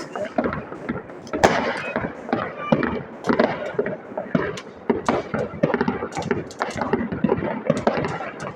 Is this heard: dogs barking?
no